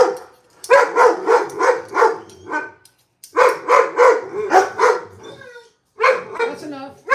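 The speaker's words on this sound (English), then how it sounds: "They like to bark at anybody who walks by with a dog." Several dogs bark in rapid bursts, loud and close, with short pauses between volleys and a few yips and whines.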